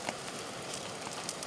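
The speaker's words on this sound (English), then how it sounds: "listening to the rain and the wind." Rain and wind on a tent while wild camping on Dartmoor in Devon, a soft continuous patter with scattered sharper drops, even and close.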